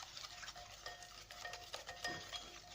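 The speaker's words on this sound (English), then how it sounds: "Mixing the milk in the butter." Warm milk is stirred into butter for pancake batter with a spoon, giving faint, soft scraping and light clinks against the bowl in an irregular rhythm, close and quiet.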